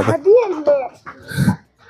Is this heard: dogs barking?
yes